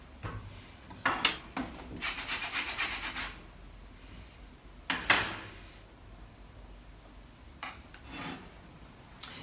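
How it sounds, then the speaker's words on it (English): Lemon rubbed against a zester in several separate rasping bursts, close and fairly loud, with quiet pauses between strokes. "we want to zest and juice a lemon"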